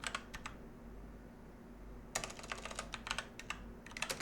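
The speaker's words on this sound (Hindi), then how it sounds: "अब मैं यहाँ पे कुछ भी टाइप करता हूँ।" Quiet keystrokes on a computer keyboard, a quick cluster of taps, a pause, then a longer run of irregular clicks over a low steady hum.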